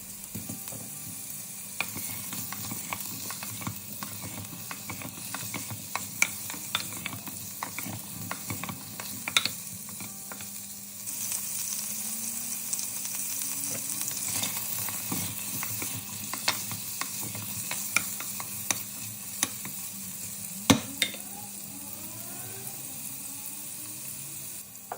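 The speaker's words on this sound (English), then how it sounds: "After roasting the carrots for some time, add paneer and fry it for 5 minutes." Paneer and carrots fry in a pan with a soft continuous sizzle, broken by frequent scrapes and clinks as the pieces are stirred up close with no talking.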